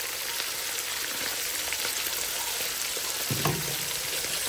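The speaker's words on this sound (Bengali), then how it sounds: "চুলায় বসিয়ে দিলাম মাছগুলো এ পিঠ আর ওই পিঠ একটু শুধু হালকা করে ভেজে রাখবো" Fish sizzling in a pan on the stove, a steady dense frying hiss with fine crackle throughout, close and even, with a brief clink or stir near the end.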